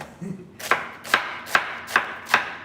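A knife chopping cabbage on a board in six crisp, evenly spaced cuts, close and clear with nothing else around them.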